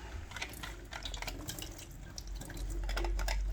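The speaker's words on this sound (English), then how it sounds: "you want to empty your water out of it." Water poured and dripping out of an SD501 water filter during cleaning, a steady close trickle with scattered drips that grows slightly fuller toward the end, with no talk.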